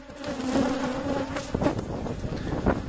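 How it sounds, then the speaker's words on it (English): Honeybees buzz in a dense, steady swarm while being brushed off the honeycomb of a top bar hive during a honey harvest in Uganda. The close, continuous drone swells slightly in places. "to make sure and brush off as many bees as possible"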